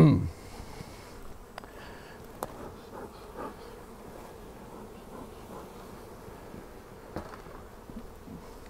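Swarms of honey bees drone steadily around open hives in a bee yard, a dense continuous buzz close by with occasional louder bees passing near and faint handling knocks.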